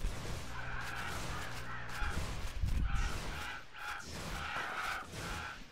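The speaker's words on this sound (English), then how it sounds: "A lot of birds" Several birds cawing in the Titan Quest video game, repeated harsh croaking calls in a loose rhythm layered over a busy, noisy in-game background, with no speech.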